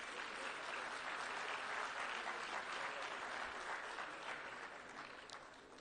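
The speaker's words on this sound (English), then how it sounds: "Please give them a round of applause." Sustained applause for the panelists at the close of a conference ceremony in Dakar, a full hall clapping steadily, fairly distant and soft, tapering slightly toward the end.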